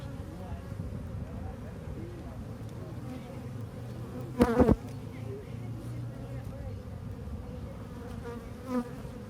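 Steady low buzzing of many honeybees around a hive, with a brief louder burst as one passes close, and faint background hum.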